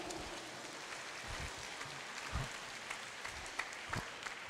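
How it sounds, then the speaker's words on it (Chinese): A crowd at an outdoor church anniversary worship service held at a university claps in encouragement, giving a steady, soft and somewhat distant patter of applause with a few sharper individual claps standing out. "给他们掌声鼓励一下"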